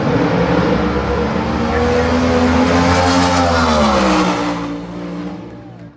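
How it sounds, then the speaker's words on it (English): Top fuel nostalgia drag cars at a March Meet race rev their engines together, a loud sustained roar that climbs in pitch, holds, then drops away and fades near the end. "RPMs come up on both cars as they are pedal clutches"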